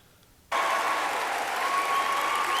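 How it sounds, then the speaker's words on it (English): Applause bursts in abruptly from silence, a broad, loud wash of many hands clapping with a faint cheer riding over it, sustained and unbroken to the end. "They're applauding because they're stupid"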